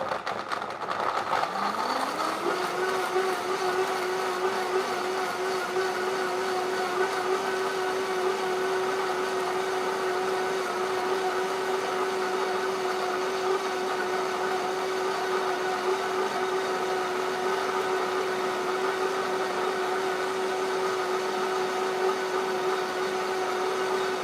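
A food processor whirs steadily for over twenty seconds, blending sunflower seeds and herbs for a raw vegan sushi filling, with a loud, even motor whine that settles to a constant pitch after a brief spin-up.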